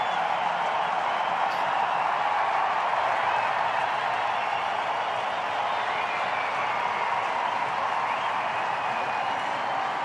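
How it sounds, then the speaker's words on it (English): Sustained applause and cheering from Indian fans all around Adelaide Oval during a one-day cricket international, a steady distant roar of clapping that holds level without breaks. "Huge applause from the Indian fans all around the ground here at the Adelaide Oval"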